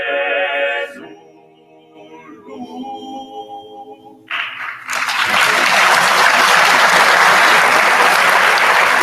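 At a graduation ceremony, a few seconds of sustained tonal singing fade into a loud, dense wave of audience applause that fills the hall and holds steady to the end.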